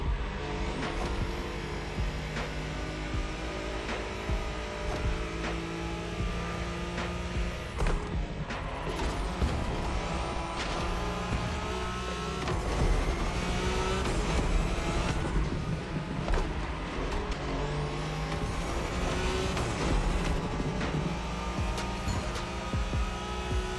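A Nissan Skyline racing flat out along the Tokyo Bayshore route in The Crew Motorfest, its engine roaring loud and continuous with rising revs and gear shifts, plus wind and road noise throughout.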